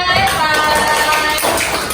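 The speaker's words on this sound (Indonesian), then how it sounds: "tepuk tangan dulu untuk Ananda" A classroom of students applauds a classmate with dense, continuous clapping, loud and close, while voices mix into the steady wash of claps.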